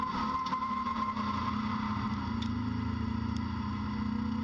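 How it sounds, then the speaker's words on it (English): A BMW touring race car at a circuit in Cape Town drones steadily through a big slide, its engine note held loud and even with a faint whine, no voices over it. "Charles Smallberger, huge slide. Have a look at this and a listen"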